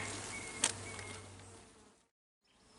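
Honey bees at a hive hum as a soft, steady buzz with a brief sharp tap, then the sound drops out to near silence before faintly returning.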